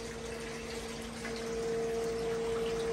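Water flowing from the spigots of an IBC tote fish tank system, a steady close rushing splash with a constant pump hum underneath, unbroken and fairly even throughout.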